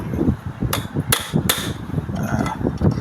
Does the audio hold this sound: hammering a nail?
yes